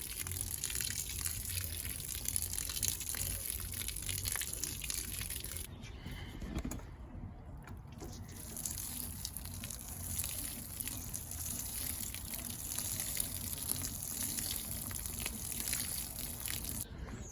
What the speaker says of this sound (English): Mixed it up, and I'm gonna just water them in.